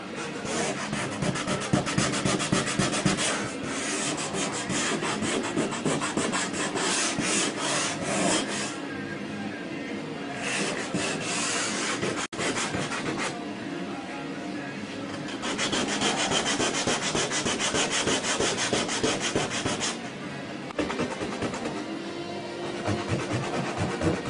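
Sandpaper rubs steadily over Bondo body filler on a BMW body kit, a continuous close scratchy hiss with back-and-forth strokes that keep shifting in intensity for the whole stretch.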